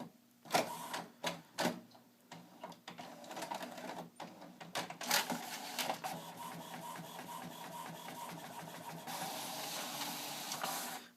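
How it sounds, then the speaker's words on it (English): A printer feeds a sheet of paper carrying an attached index card, starting with several sharp mechanical clunks and bursts, then settling into a steady whirring print pass, close and alone. "now we're going to print one more time"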